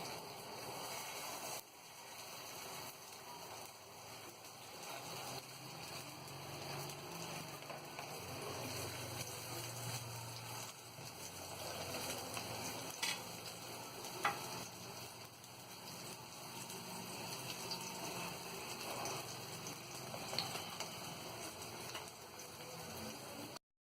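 Shami kababs shallow frying in oil in a pan, a steady soft sizzle and crackle running throughout, fairly quiet and close, with no talk.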